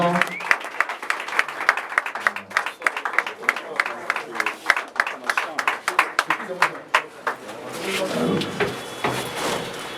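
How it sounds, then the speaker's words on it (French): Applause at a political investiture as the national president is welcomed, sharp irregular claps building into dense crowd clapping and cheering near the end, with a voice speaking over parts of it. "Je vous demande sous vos applaudissements d'accueillir le président national Gaston Koumou Tchamba"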